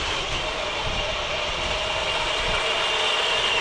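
Electric motors on RC Ripsaw-style SG 1203 tanks, one tweaked with timing and one stock, whine and rumble in a steady, fairly loud drive during a drag race, with no talk.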